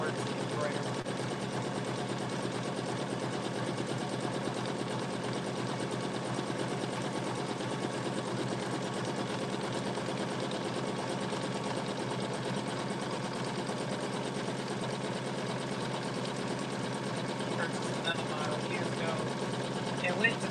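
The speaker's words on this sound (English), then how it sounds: "It's an old machine and I'm using it for sewing" An old sewing machine runs steadily, giving a quiet, continuous mechanical whir and rapid chatter that holds an even pace for about twenty seconds.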